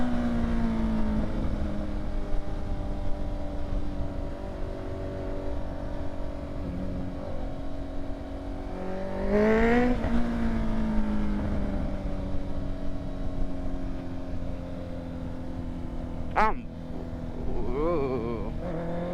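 A Honda CBR motorcycle's exhaust drones steadily during a night ride, heard up close as a continuous engine tone. Midway it revs up briefly and then settles again, with a sharp transient near the end.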